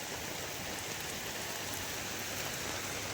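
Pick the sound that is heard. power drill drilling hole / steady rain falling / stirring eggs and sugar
steady rain falling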